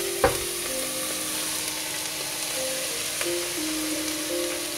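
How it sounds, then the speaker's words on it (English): Kale leaves get stirred into a hot pan for a quinoa and kale quiche, with a steady low sizzle running throughout and a couple of sharp utensil clinks against the pan. "And mix them all together and stir."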